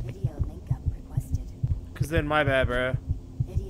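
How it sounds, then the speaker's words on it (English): Rapid low heartbeat thumping in Doom 3, steady and close, continuing while someone speaks briefly in the middle over a droning hum. "Why is my heart beating so fast?"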